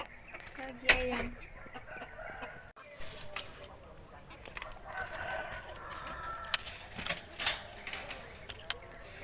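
A rooster crows in the early morning, with a couple of high, drawn-out calls rising over soft background noise and faint clucking. Light talk can be heard in between.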